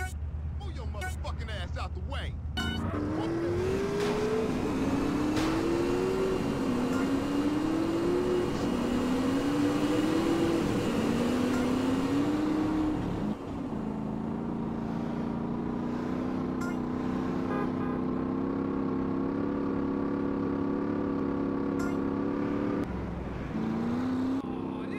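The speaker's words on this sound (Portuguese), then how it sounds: "O começo aqui está sendo corrida de motos." Motorcycle engines in a GTA San Andreas race, a steady drone with repeated rising revs as gears shift, then a sustained high whine, close and loud, with occasional talk over it.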